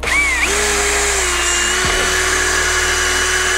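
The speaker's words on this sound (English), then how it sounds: "you can either grab a wire wheel just like we did before, clean this up a little bit" A wire wheel on a power tool whines loudly and continuously while cleaning a front brake caliper from a Ford Expedition, with the pitch dipping briefly midway as it loads against the metal, no voices.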